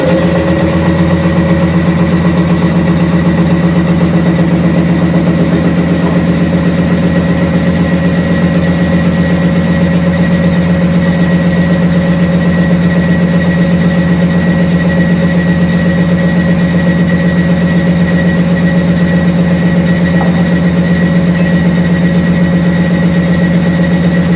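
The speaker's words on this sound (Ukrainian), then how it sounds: "Включаємо вакуум." A vacuum pump used to filter potato starch runs continuously with a steady mechanical hum and drone, unchanging in loudness and with no voices.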